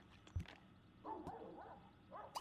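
A dog in a video game yips and barks faintly in a few brief bursts over quiet background sound.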